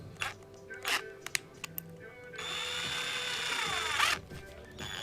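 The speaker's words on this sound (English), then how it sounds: "Alright, so now we're going to drill the first hole." A power drill bores a hole through a carbon fiber exhaust, with short bursts of clicks and taps leading into a steady whining drill run that rises and then stops abruptly, heard close up.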